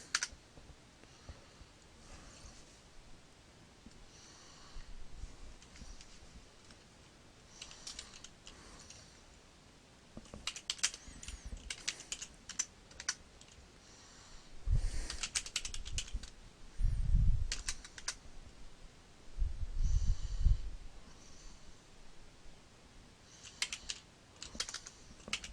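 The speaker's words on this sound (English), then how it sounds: "Need to put in root's password." Keys clacking on a computer keyboard as root's password is entered in a Linux terminal: scattered bursts of quick clicks over a long stretch, sparse at first, then denser and louder near the middle, alone without speech.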